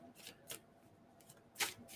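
Several crisp riffles of a card deck being shuffled, in quick irregular bursts, close and fairly quiet.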